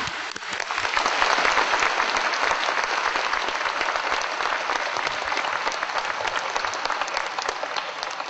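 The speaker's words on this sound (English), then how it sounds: "please give a warm round of applause to 청년사 Publishing Company and Mr. Zhang" Steady, dense applause from a conference audience greeting a Korean publishing company and its guest Mr. Zhang at an environmental event, sustained and even throughout without pause.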